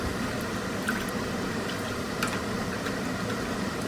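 Water is poured into a cooking pot for chicken biryani, a steady, fairly quiet splashing fill with a few small drips and clinks throughout, no talking.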